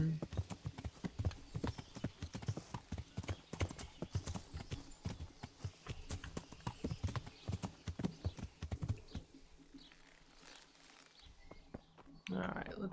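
Horse hooves clip-clop in a steady quick rhythm while riding in Kingdom Come: Deliverance, close and fairly loud, then slowing and fading near the end, with faint ambient game sounds.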